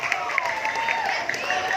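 Brief clapping from an audience at a school Maulid Nabi celebration in an Indonesian junior high school, mixed with a bright tonal sound over a steady crowd hum.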